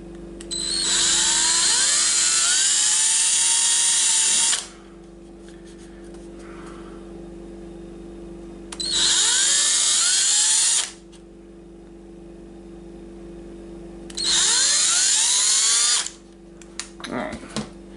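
A power drill drills holes in a plastic hockey mask, running in three bursts of several seconds each, high-pitched whining with pauses between, fairly close and loud.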